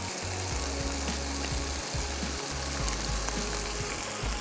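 Spinach, boiled and ground to a paste, hits a hot pan in a home-style kitchen, giving a steady, fairly loud broadband sizzle that runs unbroken from start to finish.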